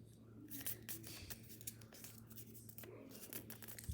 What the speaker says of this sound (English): So now you're gonna take this tip and fold it up to that edge.